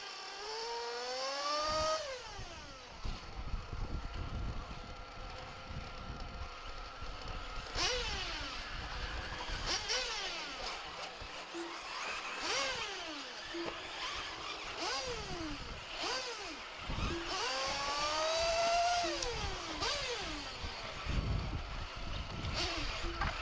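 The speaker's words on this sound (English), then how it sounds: "These guys racing out there for practice." Several dirt race cars at Dirt Nitro Challenge practice run in repeated passes, engines rising and falling in pitch as they rev and sweep past at a distance, one after another across the track.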